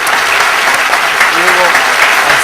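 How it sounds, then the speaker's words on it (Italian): Applause from an Italian television studio audience, loud and close, a continuous wash of clapping with a brief voice murmuring underneath. "Okay, un applauso a tutti."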